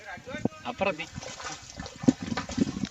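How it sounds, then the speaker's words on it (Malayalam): Water is bailed out to drain a pond, sending up irregular splashes and sloshing gushes nearby while people talk over it. "നമ്മൾ മാക്സിമം വെള്ളം വറ്റിച്ചുകൊണ്ട് നടക്കാൻ പോവാണ്"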